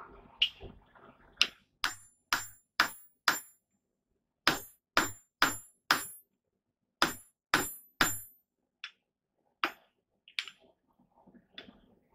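A blacksmith hammers on a swage-style anvil, striking sharp ringing blows in short rhythmic groups of three to five with quiet gaps between them, clear and close.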